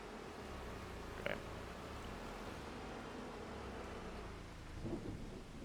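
Rain and thunder from the farming game Farming Simulator 25: a low, steady hiss of rainfall with a continuous rumbling storm bed, quiet and unbroken, with a couple of faint brief clicks.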